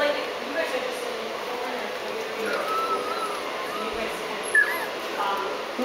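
Several German Shorthaired Pointer puppies whimper and yip in high, wavering cries, close by and fairly constant, with a little human talk mixed in.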